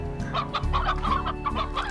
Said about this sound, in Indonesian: Ah, chicken.